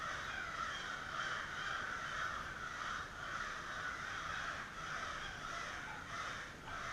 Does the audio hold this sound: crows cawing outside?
yes